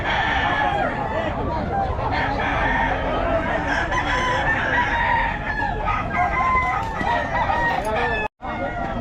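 Roosters at a gamefowl yard crow loudly and continuously, overlapping with clucking hens and other fowl, with people talking underneath throughout.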